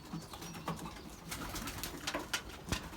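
Racing pigeons coo softly in a loft, with several low murmuring calls overlapping at close range against a faint background hiss and rustle.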